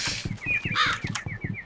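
Birds calling in a modded Minecraft game world: a crow-like bird caws in a quick repeated series over a steady rhythmic background, fairly close and loud, with no talking.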